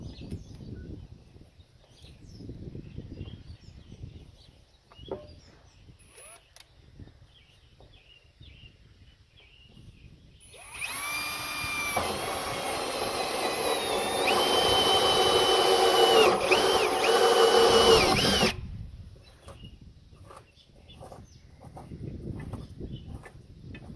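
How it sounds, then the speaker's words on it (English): A battery drill fitted with a 60 to 64 mm hole saw cuts a hole for a home-built composting toilet, a steady loud whining grind lasting about eight seconds between quieter handling noises. "Then you'll need 60 or 64mm hole saw using the old trusty battery drill."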